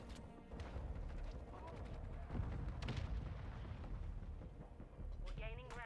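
Close air support strike explosions in Call of Duty Modern Warfare 2, a string of heavy booming impacts and crackling blasts rolling under gunfire, with a brief electronic warble at the very end.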